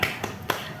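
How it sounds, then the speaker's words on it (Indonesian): A fifth-grade class claps together in a rhythmic 'tepuk semangat' cheer, giving two sharp, quick hand claps a beat apart in a classroom. "Tepuk semangat."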